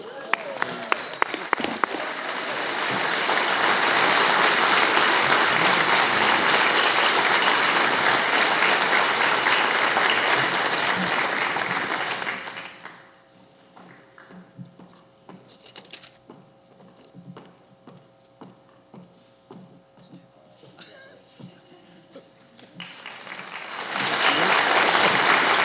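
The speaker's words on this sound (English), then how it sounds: "let's give him a round of applause" Sustained, loud audience applause fills a town meeting hall for about twelve seconds, then drops to a quiet room with faint rustles and small knocks before a fresh burst of clapping rises at the end.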